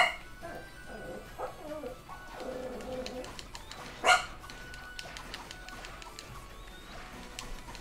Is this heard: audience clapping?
no